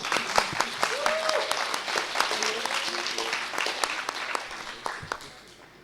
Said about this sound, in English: please give you a big applause to the first team